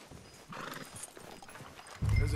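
A horse in the Western video game Red Dead Redemption 2 clip-clops along a street and then lets out a loud, close whinny, with hoofbeats over faint background ambience.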